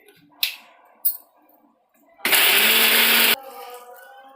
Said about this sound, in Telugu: వీటిని కూడా మిక్సీ పట్టుకోవాలి.